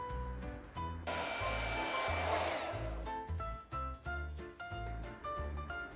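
A handheld hair dryer blows heat in a loud, steady burst of roughly a second and a half, partly masking background music that plays throughout.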